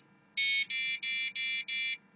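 An Arduino passive buzzer gives five short, evenly spaced electronic beeps at the same high pitch, close and clear with no talking.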